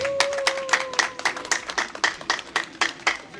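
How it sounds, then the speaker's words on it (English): Staff and colleagues at a World Refugee Day event in Foni Sibanor give a small round of applause, sparse, uneven claps from a modest group nearby, with a faint voice at the start. "please give yourself a round of applause"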